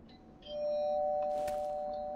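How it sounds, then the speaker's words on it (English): A doorbell rings indoors, a soft electronic tone holding and fading over about two seconds with a brief bright chime near the end, quiet against a low room hum. "Okay, and that's the doorbell."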